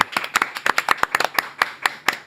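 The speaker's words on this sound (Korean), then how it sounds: "박주민 의원님 박수로 맞이합니다" Studio audience claps in a quick, irregular patter for a couple of seconds, welcoming a guest onto a Korean talk show set; the clapping sounds close and crisp with no voices over it.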